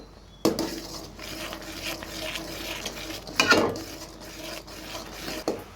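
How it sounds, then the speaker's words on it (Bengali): Boiling mango juice for pudding being stirred in a pot, a soft scraping and rubbing of the utensil against the pan with a few light clinks over a low simmering hiss, close and fairly quiet. "আমের রসটা ফুটে উঠেছে, আর একটু নেড়ে চেড়ে নেব।"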